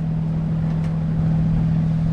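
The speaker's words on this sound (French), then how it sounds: "On va voir si on arrive à arrêter le moteur." A boat engine runs at sea off the coast of Brittany, heard as a steady, low, unbroken drone that stays loud and even throughout, with no talking.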